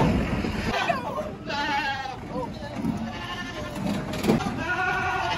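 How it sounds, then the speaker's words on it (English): Sheep bleating at a county fair livestock barn, several wavering calls rising over a busy crowd murmur, with people chatting nearby throughout. "Right here, there's a sheep."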